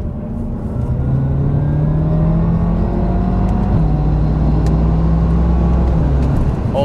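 A BMW F10 M5 accelerates hard, its engine pulling in a loud, sustained rising drone with an upshift partway through, heard from inside the car with no talking.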